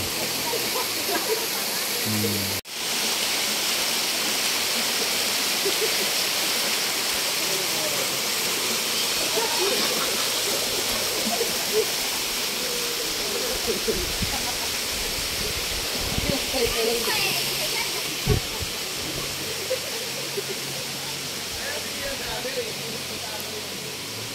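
Steady, broad rushing of a waterfall fills the scene, loud and continuous, with a sharp knock early on and faint voices beneath.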